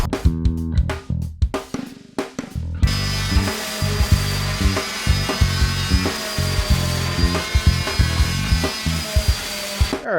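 A power saw cuts through wood up close, first in several short choppy bursts and then in a long steady whine with rhythmic catches as the blade moves through the board.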